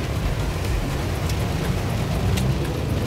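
Heavy rain heard from inside a moving car: a dense, steady wash of drumming on the roof over low road rumble, constant and fairly loud, with no talking.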